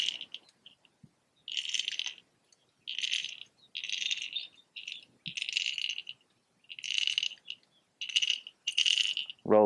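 A fishing lure drags and clatters over underwater rocks, picked up by a hydrophone about 40 yards out: roughly eight short rattling bursts separated by near-silent gaps, with a brief rising sweep at the very end.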